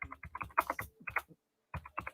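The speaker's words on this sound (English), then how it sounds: "I'll type and it'll just stop typing." Fingers typing on a computer keyboard, a close, crisp patter of key clicks in short bursts with a brief pause before a final flurry, alone without speech.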